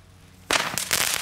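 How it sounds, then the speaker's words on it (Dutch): Category 1 crackling ball fireworks go off close by in a sudden dense burst of sharp crackles and pops that continues in rapid flurries. "Die knetterballen zijn echt raar, jongen."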